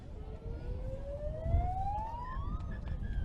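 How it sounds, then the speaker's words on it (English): A long halftime siren wail rises steadily in pitch at a schoolboy rugby league match, sounding over a noisy crowd-like background. "As the halftime siren sounds"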